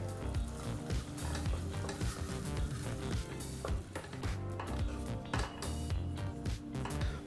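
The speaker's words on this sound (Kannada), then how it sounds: "ಹಸಿ ವಾಸನೆ ಹೋಗೋವರೆಗೂ ಚೆನ್ನಾಗಿ ಮಸಾಲ ಪೇಸ್ಟನ್ನು ಫ್ರೈ ಮಾಡ್ಕೋಬೇಕು" Raw masala paste frying in a pan for a home-style gravy: a dense, continuous sizzle and spatter with scattered scraping, a busy layer of sound running throughout, no talking.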